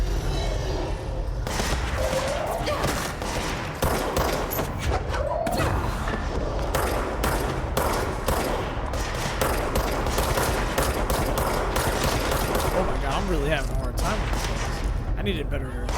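Gunfire in an SCP-themed first-person shooter, a run of sharp shots and thuds in quick irregular bursts over a steady game background, with a person talking throughout.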